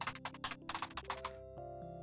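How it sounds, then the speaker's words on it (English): Rapid keyboard typing from the video game Return to Zork: a quick, uneven run of close taps over a soft sustained musical tone, ending as the tone carries on alone. "Some really furious typing there, Molly."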